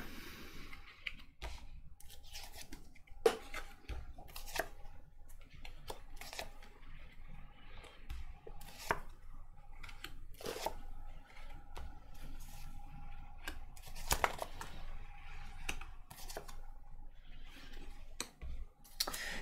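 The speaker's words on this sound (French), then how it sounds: "je pose les cartes et on les analyse ensuite" Playing cards laid one by one onto a table, giving scattered sharp light clicks and soft slaps at irregular intervals, close and fairly quiet with no talking.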